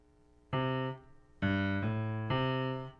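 Three separate low piano bass notes for When the Saints Go Marching In, played in the left hand as clean, sustained tones with short gaps between them, alone and fairly quiet.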